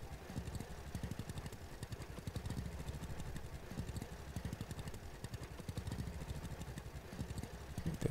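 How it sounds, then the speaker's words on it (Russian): Tractor engine in the farming game Farmer's Dynasty, a steady, loud, rhythmic chugging that continues throughout with no voices. "А трактор дальше поехал."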